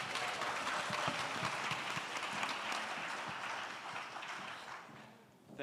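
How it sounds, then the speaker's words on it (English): A conference audience claps for a panel of speakers at a public safety and correctional services event, steady, fairly distant applause with scattered individual claps that fades toward the end. "Please clap it up for our fine panelists."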